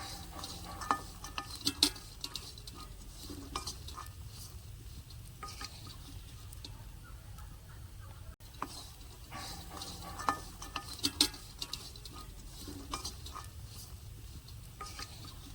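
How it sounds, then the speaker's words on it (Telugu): Chickpeas roast in a pan with a soft, continuous sizzle while a spoon stirs and scrapes them, giving scattered light clicks and scrapes throughout. "ఈ విధంగా శనగలన్నీ వేయించుకున్న తర్వాత"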